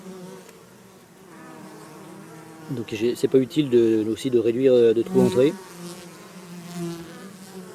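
Honey bees buzz steadily around the entrance of a ten-frame beehive being readied for winter, a close, dense hum that swells louder through the middle while someone talks over it in French.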